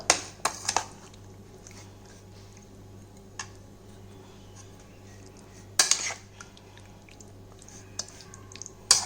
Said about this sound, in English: Mix this paste together